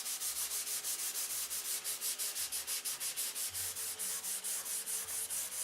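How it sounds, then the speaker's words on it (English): Primer being sanded off an aircraft surface by hand, steady rhythmic back-and-forth rasping strokes, close and continuous, about four strokes per second. "Nice if I could sand an ounce of this primer off"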